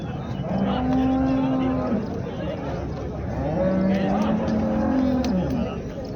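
Cattle at a livestock market let out two long, loud moos, one after the other, over a constant background of crowd noise and rumble.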